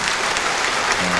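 Audience applause at a Korean traffic safety rally, clapping for three individual award winners; a dense, steady wash of many hands filling the short stretch at an even level.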